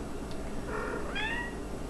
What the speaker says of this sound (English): Oh, she meowed.